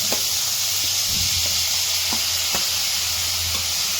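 Tomatoes go into a pan of onions fried until fully brown for tomato curry, producing a constant close hiss and sizzle with occasional light clicks from the pan or spoon.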